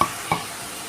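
Chilli powder, salt, coriander powder and asafoetida go into a hot pan with a steady sizzle, broken by two quick scraping stirs close by, with no talking.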